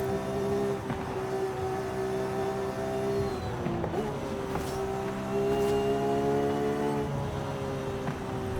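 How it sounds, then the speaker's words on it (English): A Porsche 911 in Forza Horizon 5 emits a steady, prominent transmission whine over its engine drone, pitch holding level then dipping briefly before settling back as the car keeps driving. "a big transmission whine"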